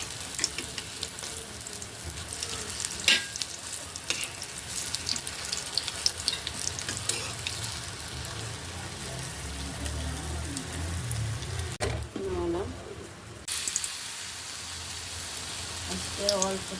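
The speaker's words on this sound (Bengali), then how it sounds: "আলুর চপগুলো ছেড়ে দিলাম। ডিম দিয়ে আলুর চপ" Egg-and-potato chops (aloor chop) fry in a shallow layer of oil, giving a dense, loud, continuous crackling sizzle with a brief sharper spattering surge near the end.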